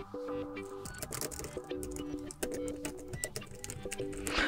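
Fingers type on the cramped keyboard case of an OPPO Pad 2 tablet, producing rapid soft clicking keystrokes close up, with a faint background hum.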